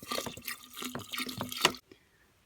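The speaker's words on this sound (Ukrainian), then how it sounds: "Заливаю звичайною водою кімнатної температури." Room-temperature tap water poured into a glass jar over dried dandelion and herbs for kvass, a short burst of splashing and trickling with gurgling pulses that stops abruptly, close and fairly quiet.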